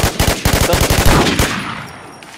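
A rapid, evenly spaced burst of M16 automatic fire in the online zombie shooter Infestation, loud and close, about a dozen shots in under one and a half seconds before the sound tails off.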